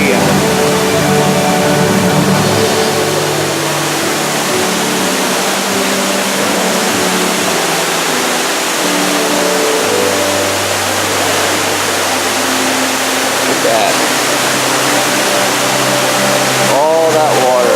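Ruby Falls, an underground waterfall inside Lookout Mountain, pours in a steady broadband roar echoing through the cave, with someone talking over it throughout.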